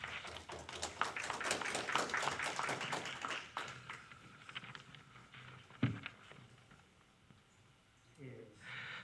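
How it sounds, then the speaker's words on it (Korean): An audience clapping at an academic forum: a dense burst of applause that thins out into scattered claps, with a few spoken words near the end. "제가 말하지 않아도 힘찬 박수 보내야겠죠."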